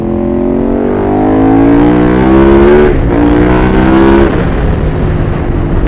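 A motorbike accelerating along a road, its engine a loud, steady, close drone that climbs in pitch, dips briefly near the middle, then rises again, with no talking over it.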